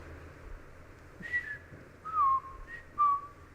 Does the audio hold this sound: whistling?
yes